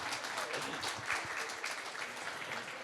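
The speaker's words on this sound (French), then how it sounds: "vous pouvez applaudir" An audience at a screen-industry festival talk applauds in a steady, dense wash of clapping that sounds distant and fairly faint, with no one speaking over it.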